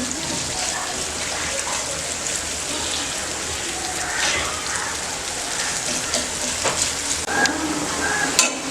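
Onion frying in a pan while making stuffed pomfret, a steady wet sizzle and crackle throughout with a few brighter pops and spatters near the end, close and continuous with no talking.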